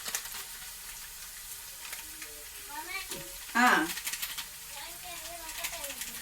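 Meat masala frying with a sizzle in a pan as it is stirred, onions already softened, one louder sizzling burst partway through and faint stirring around it.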